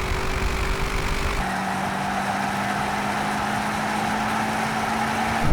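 A BMW M8 accelerating in a drag race against an Audi RS7 and Mercedes-AMG GT 63 S gives a steady engine drone with a rising tone as it shifts up, heard from a moderate distance.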